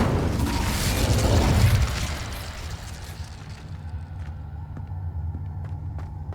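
An Incendio fire spell bursts in Hogwarts Legacy with a whooshing rumble that swells for about two seconds, then settles into a low ambient hum scattered with small clicks and crackles.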